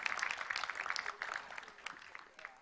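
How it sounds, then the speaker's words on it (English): An audience claps at an award ceremony, producing a steady, fairly faint patter of many hands heard from some distance, with no talking over it. "Please put your hands together and give a huge round of applause for all of you."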